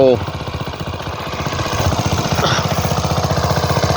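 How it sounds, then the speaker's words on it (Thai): Small engine-driven water pump pumping water out of a small dried-up pond, a loud steady rapid chugging throb running close and continuous throughout. "เอาสูบมาตั้งนะครับ สูบออก"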